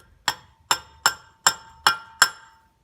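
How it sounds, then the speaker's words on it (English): Six light, evenly spaced metallic taps with short ringing decay as a diesel fuel filter is knocked onto the lift pump primer of a Kia Pregio, close and alone. "A few light taps should do it."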